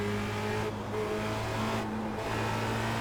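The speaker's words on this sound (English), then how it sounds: "hitting the limiter." A Formula Renault race car in iRacing, lapping Spa-Francorchamps, holds a loud sustained high-rev engine whine with steady harmonic drone and two short dips where the rev limiter cuts in, close and continuous, no voices.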